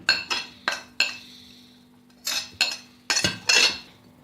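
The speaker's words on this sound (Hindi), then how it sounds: "ये तमाम चीज़ें मैं चनों में मिक्स कर रही हूँ और हम इनको मिक्स कर लेते हैं।" A spoon clinks against a bowl while mixing chickpea chaat ingredients for katori chaat. Several sharp metallic taps come in irregular bursts, close and fairly clear, separated by short quiet gaps, with no talking.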